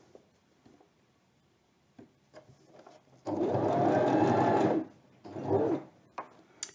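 A domestic sewing machine stitches a fabric plant pot cover, giving a short back tack and then a steady, close whirring run of stitching for about a second and a half, followed by a brief second burst amid quiet handling noises.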